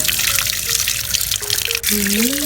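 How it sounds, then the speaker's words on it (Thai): Tap water runs steadily, rinsing sticky soil off the roots of a caladdium plant, a continuous loud splashing hiss with faint tonal squeaks and no talk. "ก็จะเปิดน้ำล้างเขาเลยนะคะ"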